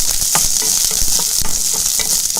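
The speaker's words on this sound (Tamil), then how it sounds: "வெங்காயத்தை நல்லா வணக்கிக்கலாம்" Small peeled onions sauté in a pan for veg kurma, a loud, close, continuous sizzle broken by repeated clicks of a spoon stirring against the pan.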